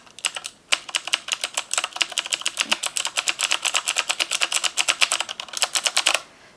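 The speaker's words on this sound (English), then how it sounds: "And then the blue switches." Fast, close typing on a mechanical keyboard with clicky Cherry MX blue switches, a dense run of sharp clacks that ends abruptly, with no voices.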